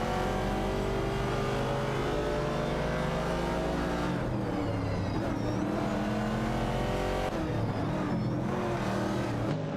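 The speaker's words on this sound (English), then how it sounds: "Edelbach and Hughes John 7 in a tight tussle for the 15th position, with their Ford Falcon and Ford Mustang Boss respectively" Ford Falcon and Ford Mustang Boss race cars in a racing video game roar continuously, engines revving and shifting as the cars jostle for position, loud and close with no talk.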